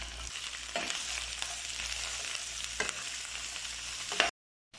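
Ginger, garlic and onion sauté together in a pot for arroz caldo, giving a steady bright sizzle broken by a few scraping stirs before cutting off suddenly.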